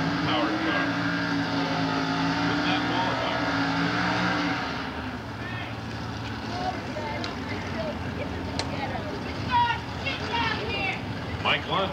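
A six-cylinder Jeep-powered drag racing car roars with a strong steady drone for several seconds during NHRA Competition eliminator time runs, then fades into rougher, noisier crowd and track sound.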